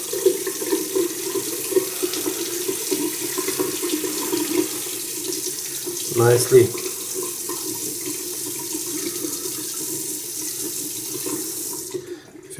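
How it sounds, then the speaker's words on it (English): A man's shaver is rinsed under a running tap into a sink, a steady broadband water rush throughout with a brief louder splash midway as the head passes through the stream, then cutting off at the end; a single word is spoken. "Rinse it under the water."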